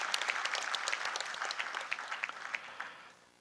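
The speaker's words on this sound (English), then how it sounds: "this requires a big applause for this grand achievement" Graduates applaud at a convocation ceremony, a dense, steady patter of many hands clapping that carries on without a break and fades out near the end.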